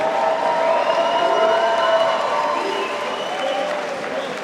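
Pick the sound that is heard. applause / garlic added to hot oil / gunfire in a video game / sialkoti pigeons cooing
applause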